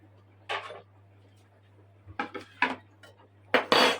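A knife slicing meat into strips on a board for homemade solyanka, a few separate sharp cuts and clinks spaced irregularly, close and clear against a low steady hum, with no talking.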